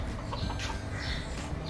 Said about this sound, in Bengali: পায়রা, হাঁস এবং মুরগি